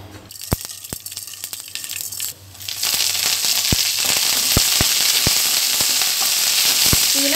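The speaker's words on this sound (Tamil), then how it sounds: "இப்போ இதே எண்ணெயில் வந்து கடுகு உளுந்து சேர்த்துக்கிறோம்." Mustard seeds and urad dal fry in hot oil, a loud steady sizzle that swells after a couple of seconds, punctuated by sharp pops and crackles of seeds bursting, with no talking.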